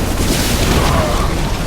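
Siege tanks being destroyed in a StarCraft II match, giving a loud, dense rumble of game explosions and booms that fills the whole stretch without a break.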